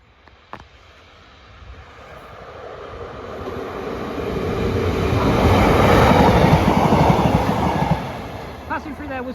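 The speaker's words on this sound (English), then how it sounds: "Passing through there was 156486 on a Northern service from Newcastle to Carlisle" Northern class 156 diesel train passing through Corbridge station on a Newcastle to Carlisle service, swelling from faint to a loud rumbling roar with rhythmic wheel clatter, then easing off slightly.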